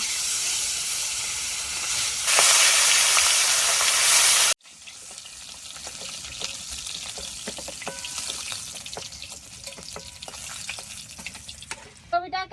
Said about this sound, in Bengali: এটাকে হালকা ভেজে নিচ্ছি